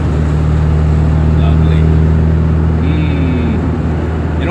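A 1979 Alfa Romeo Alfetta 2.0 engine hums with a steady low drone from inside the car while driving, loud and continuous, with a brief rising tone near the end.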